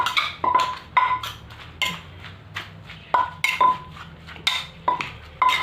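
Som tam papaya salad being scooped and tossed with a utensil: a steady series of scraping, clinking strikes against a dish, about one every half second, close and clear with no voices.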